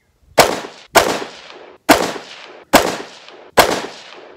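Five sharp rifle shots from a 12.5-inch 5.56 HM Defense monobloc upper, fired one at a time at a steady pace under a second apart, each loud crack followed by a short decaying echo at an outdoor range.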